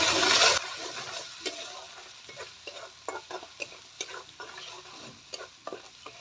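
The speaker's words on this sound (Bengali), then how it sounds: "আমি এখন আবার ভালো করে কষিয়ে নেব" Koi fish curry with pumpkin leaves is stir-fried in a pan: a loud opening sizzle settles into irregular scraping strokes of stirring over a soft crackle, close by and with no voices.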